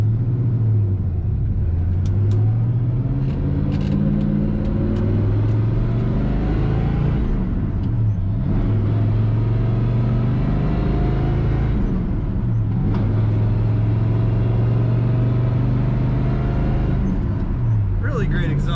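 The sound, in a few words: 1972 Oldsmobile Cutlass S driving, exhaust rumble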